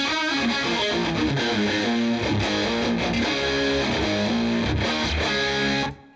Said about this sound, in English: So you get a distortion.